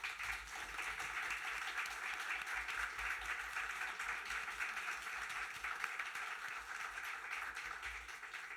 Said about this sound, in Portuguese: Eu peço um aplauso.